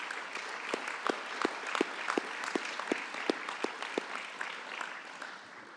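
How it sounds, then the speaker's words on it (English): Applause from members at a county council meeting, a moderately distant, steady patter of many hands with a few sharper nearby claps standing out before it slowly thins toward the end. "a well-deserved round of applause would be appropriate"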